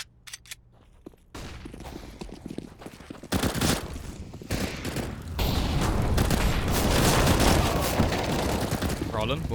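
Gunfire in a Counter-Strike match, CZ pistol rounds amid a busy firefight, with rapid shots piling into dense, loud, continuous bursts while an excited commentator talks over the action.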